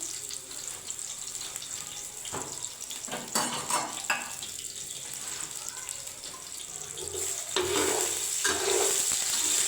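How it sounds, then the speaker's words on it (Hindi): Chopped onions fry in a pan for a Sindhi pulao biryani, giving a steady bright sizzle with occasional stirring scrapes and clinks, close and continuous, with no talking. "अब इसकी करेंगे भुनाई, 2 से 3 मिनट के लिए भुनाई करेंगे।"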